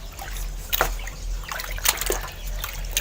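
A child rinses items by hand in clean water, with close splashes, sloshing and trickling that come in short bursts over a steady low background hum.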